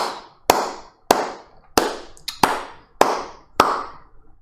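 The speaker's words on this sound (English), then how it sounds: "I'm going to give a round of applause." One person's slow round of applause: seven sharp, close claps spaced evenly about half a second apart, each ringing briefly in a small room, with no voices.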